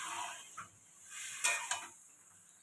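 Boiled pumpkin stalks and dal being stir-fried with potato and eggplant, giving a soft sizzle and a few faint scrapes and taps of the spatula against the pan.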